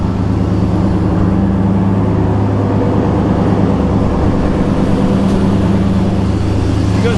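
A 1973 GMC Jimmy with a 6.0 LS V8 runs steadily after start-up, its loud, continuous low engine drone holding an even idle throughout with no pauses.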